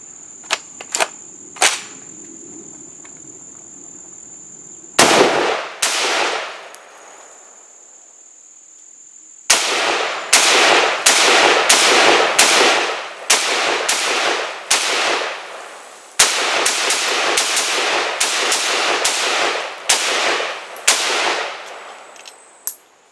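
Kel-Tec RFB .308 bullpup rifle firing outdoors: a few sharp isolated shots early, then dense bursts of loud rapid gunfire with echoing tails, insects chirping faintly in the background between volleys.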